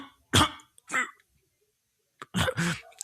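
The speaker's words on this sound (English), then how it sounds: "They coughed a lot, obviously." People cough in short harsh bursts after smoking a blunt, with a few separate hacking fits and quiet pauses between them, close and fairly loud.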